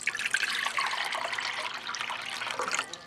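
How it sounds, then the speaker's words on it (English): Water pours steadily into a pot on a Kitchen Living double-burner hot plate, a close, continuous splashing and trickling stream that runs for about three seconds without talk. "We'll pour that in right here for a nice full pot of water."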